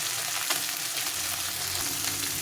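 Small fish fry in a little oil in a pan, giving a continuous close bubbling sizzle with scattered crackles and no talking.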